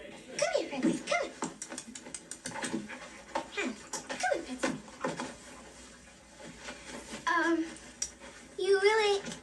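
Francis the dog whimpers, pants and gives short high yips close by, in repeated bursts with a louder run of whines near the end, while people talk in between.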